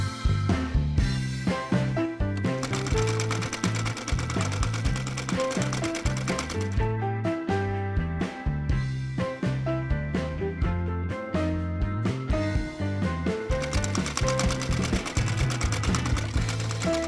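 A sewing machine stitches T-shirt fabric in fast, rhythmic mechanical runs that stop briefly and start again, close and clear, with no talking.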